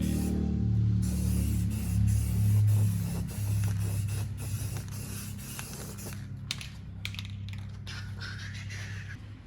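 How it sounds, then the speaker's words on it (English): Spray paint is being applied to a VW rail buggy wheel with the tire already mounted. A steady close hiss dominates the first half, then thins into lighter clicks and handling noises. "Might as well not be a total scumbag and put a little fresh paint on these."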